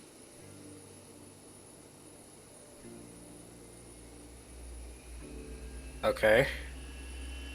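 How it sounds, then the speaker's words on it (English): A Boeing 737's number 2 engine spools up in the X-Plane 11 flight simulator, a low, steady hum and whine that grows louder and is briefly cut into by a short spoken word. "And we got number 2 starting. I can hear it coming alive."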